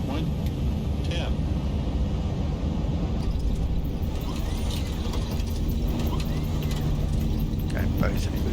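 Airliner thrust reversers roar steadily on landing in a flight simulator game, a broad continuous rumble of engine noise running throughout at constant loudness, with people talking over it.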